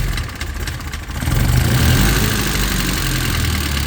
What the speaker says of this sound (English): a little bit tappety, a little bit rattly, but running okay.